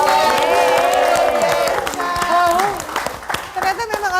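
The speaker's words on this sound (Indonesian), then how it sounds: "tapi tepuk tangan buat semuanya" A television studio audience on an Indonesian health talk show about obesity breaks into applause and cheering, loud at first then thinning and fading, with voices and music mixed in.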